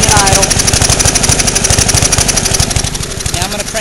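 A gasoline lawn mower engine converted to run on propane, idling close by with a rapid, even chugging pulse and metallic rattle, steady and loud throughout.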